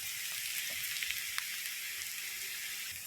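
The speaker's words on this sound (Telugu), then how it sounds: "ఇక్కడ ఆనియన్స్ కూడా, సిమ్లా మిర్చి కూడా మనం బటర్లో వేయించడం వల్ల ఫుల్ టేస్టీగా ఉంటుంది." Onions and capsicum frying in butter for Mumbai-style street pav bhaji give a steady, dense sizzle with faint crackles throughout, continuous and fairly quiet with no talk.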